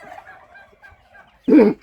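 Chickens in a farm pen, raised as young birds, give one short loud burst of clucking and squawking near the end, after a stretch of faint, scattered bird sounds.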